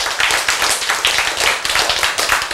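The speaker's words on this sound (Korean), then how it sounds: "크, 박수!" A church congregation claps loudly and close by in a fast, steady rhythm of sharp, overlapping handclaps lasting a couple of seconds.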